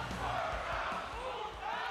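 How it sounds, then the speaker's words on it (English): At a WWE wrestling event, a large arena crowd keeps up a steady roaring chant for a wrestler, a dense continuous wall of voices throughout with no commentary over it. "Crowd already chanting for Swerve."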